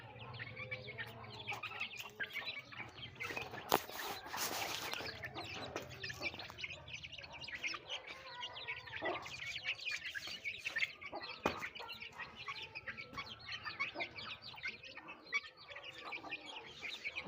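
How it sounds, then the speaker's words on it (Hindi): Rooftop chickens and roosters clucking and calling continuously alongside chirping birds, with a few sharp louder calls and steady low outdoor background noise. "ये देखिए छत के ऊपर चिड़े हुए मुर्गे हमारे"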